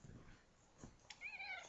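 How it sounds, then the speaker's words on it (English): A pet cat gives a short, faint meow near the end of the moment, rising and wavering briefly after a few soft rustles in an otherwise quiet room. "This is my cat,"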